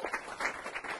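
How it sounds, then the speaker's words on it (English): An audience at a demo day event claps for students, a brief spell of scattered, uneven hand claps with a few distinct peaks. "So I just want to clap for them."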